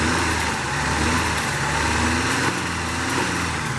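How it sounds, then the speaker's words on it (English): A 1989 Ford Mustang engine, first started after eight years of sitting, idles with a steady low rumble and a slightly uneven rhythm, close and alone with no talking. "Bringing an engine back to life."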